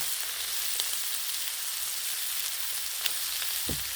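Bacon sizzles and fries on a hot Blackstone griddle, a steady dense crackle throughout with a few sharper pops and a brief low scrape near the end.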